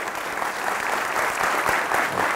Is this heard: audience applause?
yes